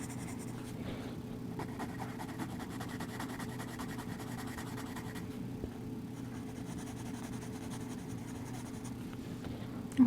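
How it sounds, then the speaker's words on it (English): Colored pencil scratching steadily on paper while a flag in a sailboat drawing is colored yellow, a soft continuous scribbling texture with light, even pressure, close and alone without talk. "So I'm going to color in my flag yellow."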